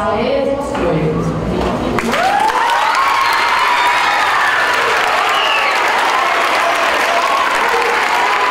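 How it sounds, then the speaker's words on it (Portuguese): Classmates applauding a student after a school talk, a dense, loud, sustained wash of clapping from a crowd, with cheering and voices mixed in throughout. "Sônia foi aplaudida pelos colegas"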